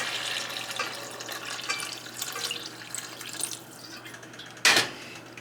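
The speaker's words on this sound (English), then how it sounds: "I'm just going to add some water." Water runs and splashes into a pot of chicken for a few seconds, a soft steady pour from a tap ending in a brief louder splash, heard close and without talk.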